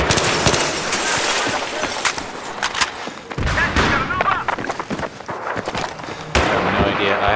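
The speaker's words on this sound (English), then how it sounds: "Where are those shots coming from?" Gunfire in a Battlefield-style video game playing Rush mode, with bursts of rapid shots and single cracks rattling throughout amid game noise, while players talk over it.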